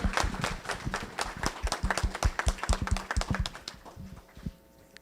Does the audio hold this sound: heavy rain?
no